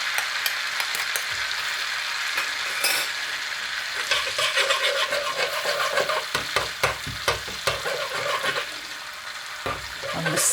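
Cumin seeds and garlic fry in a pan for tarka dhal, a loud continuous sizzle and crackle with scattered clinks and scrapes of a utensil stirring close by, no talking.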